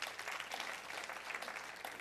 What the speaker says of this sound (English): So you give yourselves a round of applause for that one.